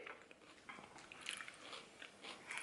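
Close, quiet crunchy chewing and biting of a crisp snack, a run of small irregular crunches with no talking.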